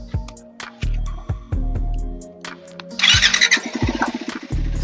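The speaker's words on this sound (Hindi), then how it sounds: "ये बाइक स्टार्ट हो गई है" A Triumph Scrambler 400 X motorcycle cranks with a harsh starter whir in short bursts, then fires into a loud, close idle with a rough, pulsing rhythm.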